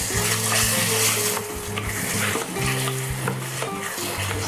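Beef sizzles and fries in a thickened sauce for an Asian beef dish while a utensil scrapes and stirs it in the pan, close and continuous, with clinks against the cookware and no voices.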